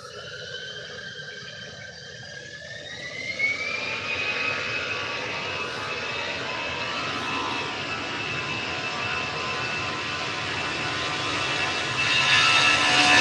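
An Aer Lingus airliner bound for Dublin departs Manchester Airport, its jet engines building into a steady, spreading roar with a rising whine that swells louder toward the end, with no talking.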